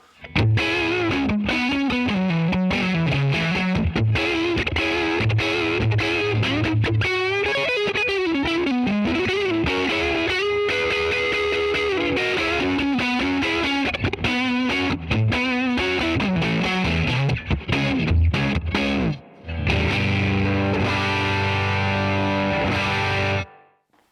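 Electric guitar driven through a Guitar Slinger RB1011 MKII booster into a Fender Deluxe Reverb amp, played loud and heavily distorted with sustained chords and melodic runs, briefly dropping out near the end before returning.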